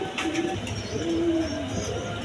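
Pigeons coo in soft, repeated throaty calls close by, several birds overlapping against a low background murmur, with pigeons kept for sale.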